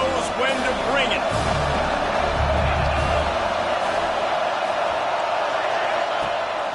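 Stadium crowd at a college football game roaring and cheering continuously, a dense wash of voices with whoops rising early, under a commentator's play-by-play.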